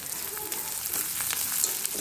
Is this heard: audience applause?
no